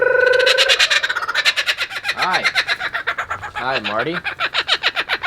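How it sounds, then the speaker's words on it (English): A captive laughing kookaburra from Australia gives a loud, close, rapid rhythmic cackling call that rises and falls, while a person briefly speaks over it. "pretty much a kookaburra from Australia, called a laughing kookaburra as well"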